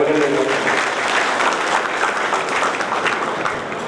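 A large ceremony audience applauds the district SP at an official event in Koppal, giving a loud, dense, continuous clapping that holds steady for several seconds, with a voice faintly heard beneath it.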